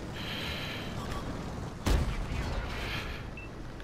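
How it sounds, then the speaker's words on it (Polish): A tank cannon fires once in World of Tanks, a quick unaimed shot from an Object 279 Early: a sudden loud boom midway through, laid over steady engine rumble and battle noise. "Taki szybki strzał z biodra, bardziej żeby przykuć chyba jego uwagę"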